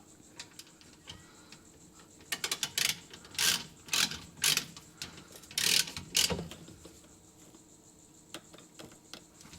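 A diff drain bolt on a Holden Commodore, coated with thread sealant, is tightened with a ratchet: a run of sharp, close clicking bursts in the middle, quieter between.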